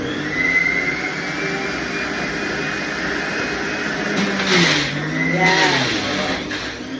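An electric juicer whirs steadily while making carrot juice, its motor note dipping and rising as it loads, close and fairly loud, with a brief spoken word over the running machine.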